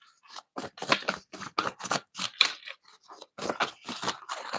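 Tarot cards shuffled by hand at close range, giving a quick run of crisp, papery riffling bursts with short pauses between them.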